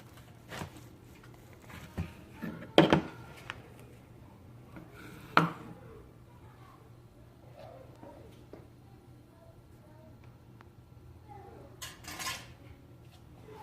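A knife slices through smoked barbecued meat on a board with faint scrapes and a few sharp clinks and taps, quiet and close, with light talk now and then.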